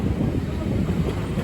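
Heritage steam train on the Great Central Railway passing through Quorn station, a steady close rumble with wind buffeting the microphone and people talking nearby.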